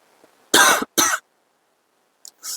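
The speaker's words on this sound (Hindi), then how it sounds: "सॉरी, खांसी अभी भी ठीक नहीं हुआ है मेरा।" A person coughs twice in quick, harsh bursts, close and loud, then gives a short softer cough or throat-clear after a pause.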